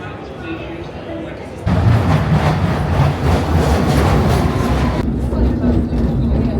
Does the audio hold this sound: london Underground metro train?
yes